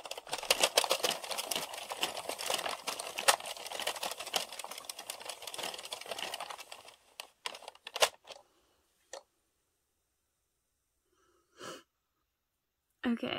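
An addi knitting machine is cranked through foundation rows, a fast, dense mechanical clatter that runs steadily for several seconds before stopping, followed by a few isolated clicks and faint handling sounds nearby.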